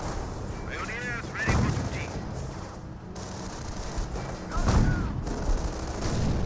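A battle rages in Company of Heroes as an artillery barrage lands, with repeated heavy booms and bursts of gunfire over a constant din, while a voice speaks over the action.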